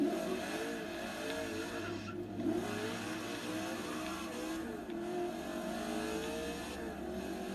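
A loud car engine roars continuously, revving up and down with a brief tire squeal, over steady background music in the racing game Forza Horizon 3.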